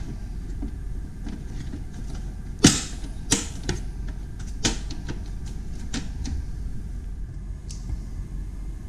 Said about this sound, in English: Here I am attaching the back panel to make it look nice.